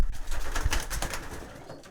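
A pigeon in a loft gives close, soft cooing calls, a few low throaty coos in quick succession over a faint background hum, with no voices.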